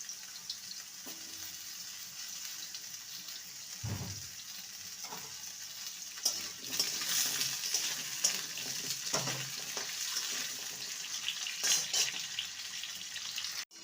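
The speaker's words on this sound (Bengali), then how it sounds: "আলুটাকে লম্বা লম্বা পাতলা পাতলা করে কেটে নিয়েছি আলুটাকে ভালো করে ভেজে নেব" Thin, long-sliced potatoes frying in hot oil give a continuous crackling sizzle, broken by a few utensil knocks and stirring sounds, close and fairly quiet.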